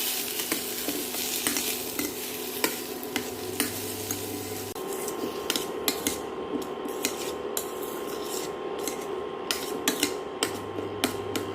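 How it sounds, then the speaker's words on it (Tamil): Shallots and tomatoes sautéing in a pan for paneer butter masala, a steady close sizzle broken by repeated sharp clinks and scrapes of a spoon against the pan, with a low hum coming and going underneath. "சின்ன வெங்காயம், தக்காளி பழம், ரெண்டையும் வதக்கணும், நல்லா வதக்கணும்."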